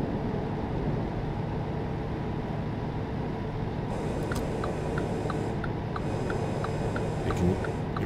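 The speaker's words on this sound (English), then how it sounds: "If you listen closely, you can hear that retarder and the transmission kind of keeping us so we don't pick up too much speed going down that hill." Engine retarder and transmission braking on a heavy truck rolling downhill in American Truck Simulator, a steady low rumbling drone with faint rhythmic ticking clicks in the second half and no voice.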